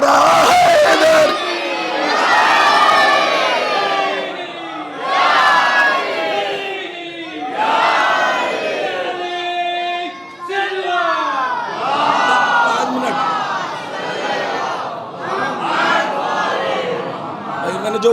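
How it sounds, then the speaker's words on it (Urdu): A crowd at a religious gathering answers with the Naara-e-Haidar slogan, loud massed shouts and cheers rising in repeated surging waves, close and filling the space throughout. "دونوں ہاتھ بلند کر کے نعرہ حیدر."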